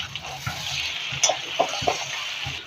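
Fried potatoes and beans with salt, turmeric, chili and a little sugar are stirred in a pan, with a steady sizzle broken by several scraping, clinking strokes of the spoon against the pan.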